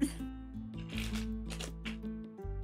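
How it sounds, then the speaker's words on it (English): Tarot cards are shuffled close by in a few quick riffling bursts that sit over steady background music. "I hear the shuffle card."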